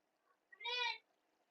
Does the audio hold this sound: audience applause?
no